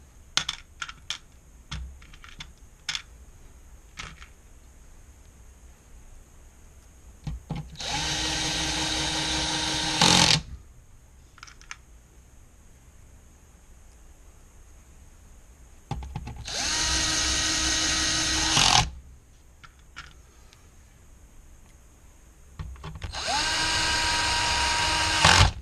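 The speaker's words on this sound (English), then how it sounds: "Put the screw back." A power drill drives screws back into an ET1747L-8CWF unit, three loud whirring bursts of a few seconds each separated by quieter stretches of small clicks and handling of screws and metal parts.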